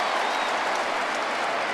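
A football stadium crowd claps and cheers in a dense, continuous wash of applause at an NFL game, Indianapolis Colts against New England Patriots, loud and steady with no break.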